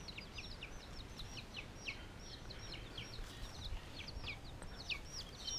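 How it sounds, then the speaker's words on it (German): Chickens and their chicks in a newly built coop, with a run of rapid high peeping from the chicks over a dull background hum, steady and moderately faint at close range. "der Vince und die Dominique gestern nämlich einen neuen Hühnerstall für die Babys gebaut."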